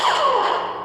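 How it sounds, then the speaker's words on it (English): A blaster-block effect from a Luke Skywalker sound font on an LDM MK-VI lightsaber: a single loud, close, buzzing zap that sweeps downward and fades out within a second. "blaster blocking"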